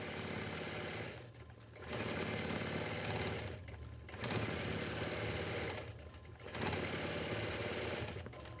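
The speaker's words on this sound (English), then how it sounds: "I really enjoy watching the computerized machine do its thing." A computerized sewing machine stitches out a tiny, intricate quilting pattern on its own, a fast continuous mechanical whir broken by three short pauses, steady and close.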